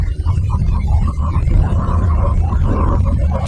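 Eerie sound presented as the planet Uranus: a deep, rumbling, growl-like drone with wavering moaning tones, loud and continuous with no speech over it.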